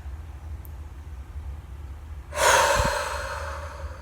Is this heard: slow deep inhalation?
yes